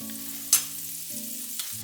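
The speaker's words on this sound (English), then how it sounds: "Just let that melt down." Three tablespoons of butter melt in the same pan used for chicken, giving a soft, steady sizzle with low hum, a brief clink near the start and a faint tap later, quiet and close.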